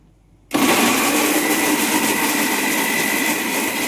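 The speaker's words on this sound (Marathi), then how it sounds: "आता प्युरी करून घेते मिक्सरला" A mixer grinder starts abruptly after a brief quiet moment and runs loud and steady pureeing tomatoes, a harsh continuous whirring that fills the rest of the clip.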